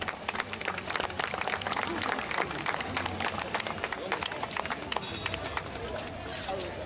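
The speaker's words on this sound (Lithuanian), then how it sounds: "Aplodismentai nugalėtojui bei damų numylėtiniui." A crowd at a knights' tournament applauds the winner, brisk dense clapping mixed with crowd noise and a voice speaking over it.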